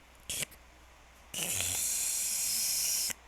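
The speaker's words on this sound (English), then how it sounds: "You hear a lot of crackling and static" A ship's radio on a spaceship bursts with static: a brief hiss, a short pause, then a longer, louder steady wash of crackling noise that cuts off abruptly.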